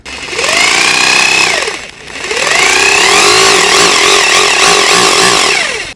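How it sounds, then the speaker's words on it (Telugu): An electric drill boring into the front mudguard of an Aprilia RS 457 motorcycle, two loud close bursts of whining motor with rising and falling pitch, briefly pausing between runs. "సో డ్రిల్లర్ ఇప్పుడు మనం ఫిక్స్ చేసి డ్రిల్ చేద్దాం"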